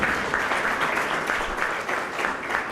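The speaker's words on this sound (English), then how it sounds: "You have to clap really loudly." Audience clapping at a school annual day prize distribution, a steady dense wash of many hands sustained at even loudness throughout, with no breaks.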